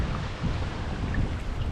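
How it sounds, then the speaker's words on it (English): Steady rushing roar of a waterfall on the Blackstone River at a state park, a dense unbroken wash of broadband water noise at moderate level with no voices. "You can see that waterfall."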